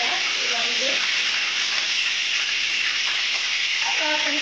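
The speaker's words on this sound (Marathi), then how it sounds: "कढीपत्ता चांगला तडतडून द्यायचा आहे." Curry leaves, cumin and mustard seeds crackle in hot oil with a steady, close, dense sizzle throughout, while faint voices come and go beneath the frying.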